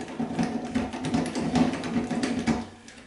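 A power drill whirs in short repeated bursts while backing a Phillips screw out of a Moen bathtub handle, close and moderately loud.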